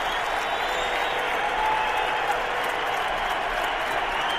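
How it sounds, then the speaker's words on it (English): A football stadium crowd roars during a 2007 Patriots vs Browns NFL game, a dense, steady wash of cheering and clapping that stays loud and unbroken throughout, with a faint whistle-like tone midway. "And listen to the crowd."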